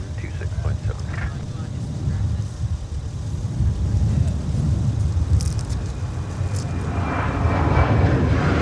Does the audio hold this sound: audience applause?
no